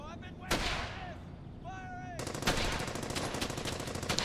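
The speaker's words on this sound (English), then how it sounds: "So I'm going to get the MG to suppress this guy, so that I don't get seen moving across." Bursts of rapid machine gun suppressing fire in a World War II battle in Brothers in Arms: Hell's Highway, sharp repeated reports with a loud blast partway through, then a sustained rattling stream of shots.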